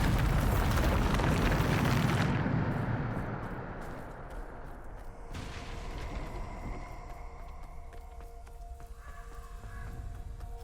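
A Bombarda spell blast in the Hogwarts Legacy video game bursts loudly and broadly at the start, then decays over about two seconds into a lingering rumble with faint scattered debris and game ambience.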